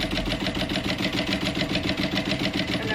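A sewing machine runs a continuous seam on a crossbody bag, its needle pumping in a fast, even mechanical rhythm with a steady motor hum, close and uninterrupted.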